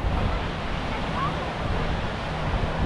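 Surf rolls onto a beach in Beirut as a steady, broad wash of noise with wind buffeting the microphone, the waves heard close and unbroken.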